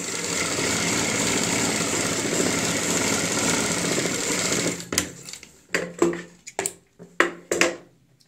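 Sewing machine stitching pin tucks on a kurti, a steady loud whirring run of about five seconds that breaks off into several short separate bursts.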